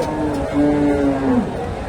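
A large Friesian bull lows at the Dhap cattle market in Bogura, North Bengal: one drawn-out, steady moo that rises slightly and holds before fading, heard close and loud over a constant crowd murmur.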